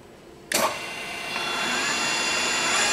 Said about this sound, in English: Set the feed rate high so we could see it actually operating.